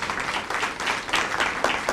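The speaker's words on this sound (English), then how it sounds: "Can you give yourselves a round of applause and your staff?" A crowd at a Prince George's County realtors' breakfast breaks into steady applause, a dense, moderately loud patter of many hands clapping with no pause over the whole stretch.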